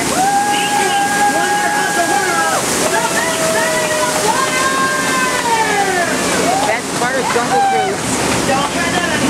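Steady roar of a waterfall beside the Jungle Cruise boat ride at Walt Disney World by day, loud and continuous, with a voice talking over it throughout.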